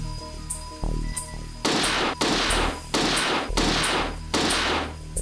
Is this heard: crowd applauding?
no